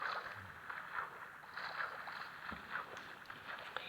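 Rhythmic paddle splashes of a boat being rowed across water in Minecraft, repeating steadily at moderate volume with a soft watery wash between strokes and no voices.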